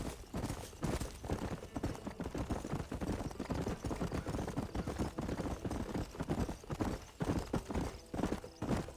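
Horse hooves clip-clop in a steady rhythm on a dirt road in the Red Dead Redemption video game, near and continuous throughout with no talk over them.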